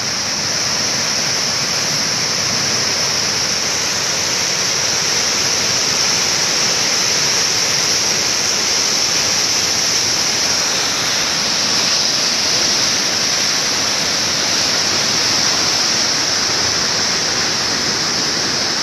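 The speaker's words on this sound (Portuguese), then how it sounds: "Olha a pressão d'água que dá no rumo dos pilares, ó." Water under pressure rushes steadily against bridge pillars, a loud continuous roar that runs unbroken throughout with no voices.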